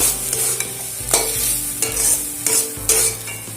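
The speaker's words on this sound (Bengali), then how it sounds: "ভালো করে নাড়াচাড়া করে আবারও বেশ কিছুক্ষণ এটাকে টানিয়ে নেব" Fried onion and chilli are stirred into a bean paste in a pan, the spatula making repeated scraping strokes over a steady sizzle, close and loud, with no talking.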